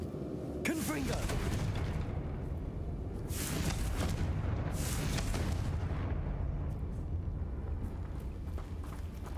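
Confringo fire spell blasts from the Hogwarts Legacy video game, with two loud booming bursts over steady game ambience and a voice briefly audible.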